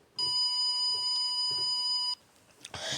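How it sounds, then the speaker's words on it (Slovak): A device in a home studio beeps after a USB drive drops out: a sustained high electronic tone with faint pulsing lasting about two seconds, then a short rustle. "Nespadlo USBčko a toto pípa"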